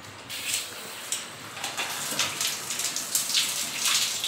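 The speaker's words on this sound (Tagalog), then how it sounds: "Patay niyo yung shower." A running shower sprays water in a steady hiss with irregular splashing bursts and spattering, fairly close and continuous, with no clear talking over it.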